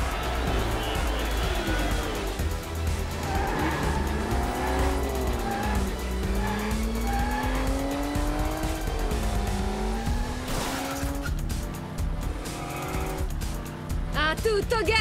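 Animated race cars roar at full throttle in a close, loud mix of engine tones whose pitch climbs and sweeps as they accelerate, with tire squeal layered over music.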